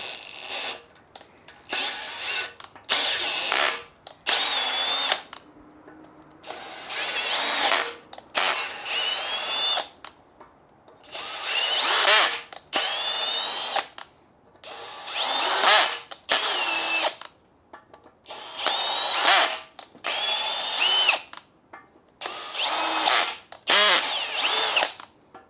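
A power drill with its clutch set drives screws into a radiator core on a Lima 604 shovel, whirring in repeated short bursts, loud and close, with no talk.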